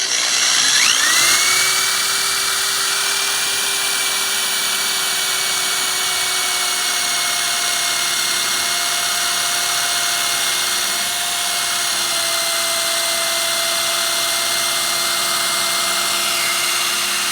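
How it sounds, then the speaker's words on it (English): A high, steady whine of a power drill drilling pocket holes with a pocket hole jig runs nearly without pause, close and loud, with a slight dip in pitch partway through. "there's going to be a little bit of noise while I'm drilling."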